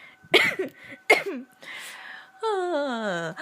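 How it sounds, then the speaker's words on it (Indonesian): A woman coughs twice, sharp and close, in a quiet podcast setting, followed by a hoarse strained breath and a drawn-out, wavering groan or whimper. "Lagi batuk, nggak kuat"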